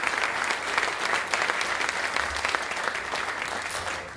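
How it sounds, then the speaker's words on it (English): An audience at a 2017 induction ceremony applauds steadily, a dense sustained patter of many hands clapping at even loudness throughout. "I want to give also a big round of applause to Gib Palmer."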